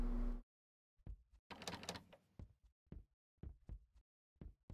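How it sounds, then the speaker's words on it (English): A door opens in a creepy horror video game with a series of sharp knocking thuds and a grinding rattle, irregular hits spaced by silence, fairly clear and alone. "why do the doors have to make that noise when they open?"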